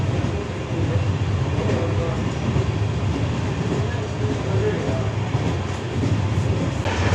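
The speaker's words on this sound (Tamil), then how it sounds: "அதனால தான் நம்ம வந்து டீசல் லோக்கில் போயிட்டு இருக்கோம்" Diesel locomotive pulling a Vistadome coach on a single-track line toward Mangalore, heard as a steady, continuous rumble of running train and rolling wheels from inside the carriage, with no clear voices.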